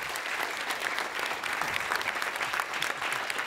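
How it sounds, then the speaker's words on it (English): An audience applauds panelists at a game design talk, with dense, steady clapping from a crowd filling the room at an even level from start to finish. "please, please put a nice round of applause for our panelists here"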